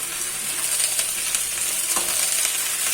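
Cut potatoes fry with okra in a hot pan, giving a loud, dense, continuous sizzle with light stirring scrapes and no voices.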